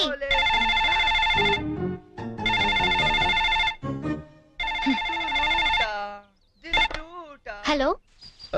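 A telephone rings in a Telugu film scene, with repeated electronic trills in long bursts. A voice chants between and over the rings before the call is answered.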